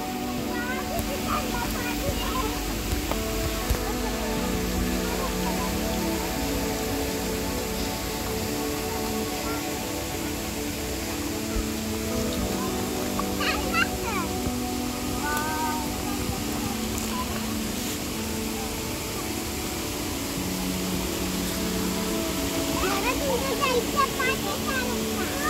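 A forest stream in the Karnala bird sanctuary near Panvel flows with a steady, even rush of water throughout. People, including children, talk and call out over it.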